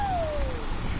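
A small child imitates a cat's meow with a single drawn-out, falling call over steady background noise.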